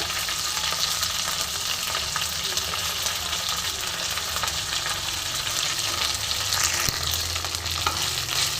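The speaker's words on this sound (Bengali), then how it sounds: "ভালো করে নেড়ে আমি পাতাটা বেশ সুন্দর করে ভেজে নেব" Shiuli leaves frying in a pan, a loud steady sizzle running throughout while they are stirred, with occasional scraping and a brief knock near the end.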